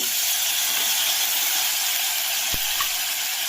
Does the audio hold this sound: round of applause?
no